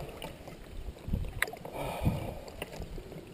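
A canoe paddled across a lake in Algonquin Park, with soft water swishes and gurgles around the hull, a couple of louder paddle-stroke splashes over a light outdoor background.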